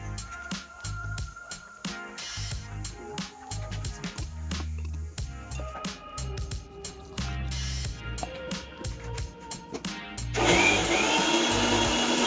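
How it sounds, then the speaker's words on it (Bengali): A kitchen mixer grinder blends chili, cumin, cardamom, clove and cinnamon into a paste, bursting into a loud, rough whir near the end after a stretch of tonal background music. "তারপর প্রয়োজন মতো লঙ্কা, জিরা, এলাচ, লং আর দারচিনি পেস্ট করে নিলাম মিক্সারে।"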